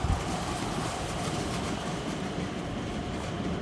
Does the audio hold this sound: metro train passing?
yes